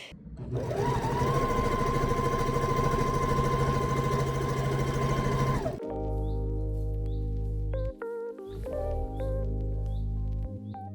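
A sewing machine stitches fabric for a round side table skirt, running in a steady, fast mechanical drone for about six seconds before music takes over.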